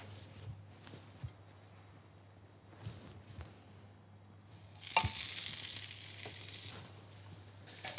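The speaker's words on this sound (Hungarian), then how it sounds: "Főrakok egy serpenyőt a tűzre, amiben a szeletelt szalonnát fogom megpirítani." Sliced bacon frying in a pan, starting as a faint crackle with occasional pops, then swelling into a loud, steady sizzle.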